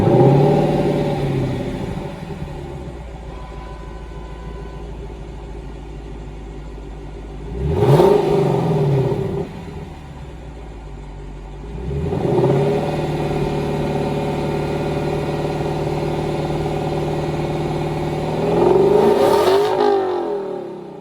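A Lexus LC 500 convertible's 5-liter V8 revs and accelerates in three surging pulls separated by steadier cruising stretches, a deep, fairly close engine note with no talking.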